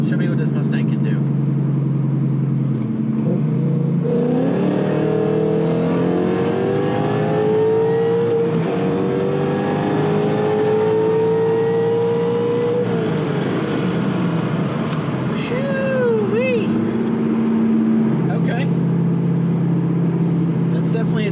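A 750 hp Roush supercharged Mustang GT accelerating hard, engine droning and climbing steadily in pitch through a long pull, with supercharger whine above it and people talking inside the car.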